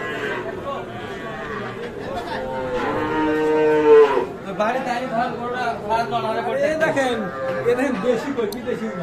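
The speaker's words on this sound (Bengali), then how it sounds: "চলেন তো আমরা একটু গরুগুলো দেখি" Cattle at a busy livestock market moo loudly and repeatedly, long drawn-out calls rising and falling over a background of crowd chatter and people talking.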